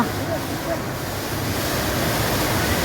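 An indoor waterfall with colored lights inside a shopping mall gives a loud, continuous rushing roar of falling water that fills the whole stretch evenly, with no pauses and no distinct voices.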